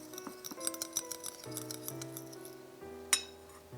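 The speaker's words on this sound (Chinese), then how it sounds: "我们把它搅拌均匀。" Melted butter and matcha powder are stirred in a bowl with a series of light, quick clinks and scrapes of a utensil against the bowl, ending in a sharper knock, all quiet and close.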